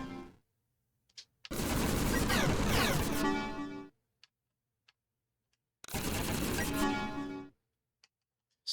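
Two long bursts of rapid automatic machine gun fire in the video game Approaching Infinity Survivors, each lasting about two seconds, separated by near silence with a few faint clicks.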